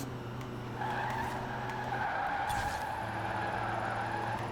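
A Rimac C Two drifting in Forza Horizon 4, tires skidding in a sustained, loud squeal over a steady engine roar, with a brief rougher burst midway.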